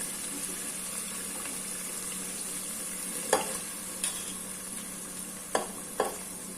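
Rice being stirred in a frying pan for burnt garlic rice, a steady soft sizzle with a few sharp scraping clinks of the spatula near the end.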